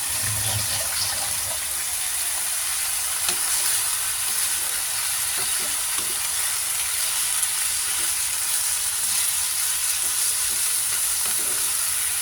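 Salmon belly sizzling in a pan while being sautéed for sinigang, a steady, continuous frying hiss with occasional faint stirring clicks throughout, no voices.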